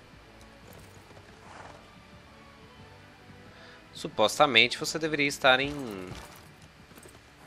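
Cavalry horse hooves in Civilization 6 clatter in a quick burst of clip-clops with a whinny, loud and brief, following a stretch of quieter game ambience under someone speaking.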